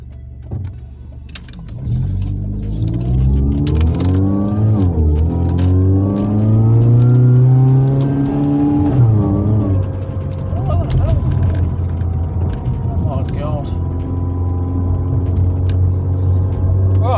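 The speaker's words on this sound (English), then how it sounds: "So that was gentle acceleration and it didn't seem to have a problem with that" A Mercedes-Benz 230 Kompressor accelerates gently while driving, its engine note rising steadily in pitch and holding as a loud, continuous hum from inside the car, with a brief gear-change dip midway.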